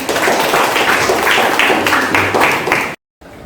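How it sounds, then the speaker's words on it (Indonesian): Students in a mathematics classroom clap for a group, a loud, steady round of applause with faint rhythmic patterns that stops abruptly, followed by a moment of silence. "Tepuk tangan untuk kelompok 8."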